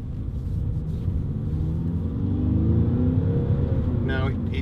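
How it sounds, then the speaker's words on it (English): A 2013 Volkswagen Scirocco 2.0 TDI GTS diesel engine rumbles with a deep, steady roar that climbs gradually as the car accelerates along a dual carriageway, and a voice speaks briefly near the end. "it's got a real kind of throaty roar to it"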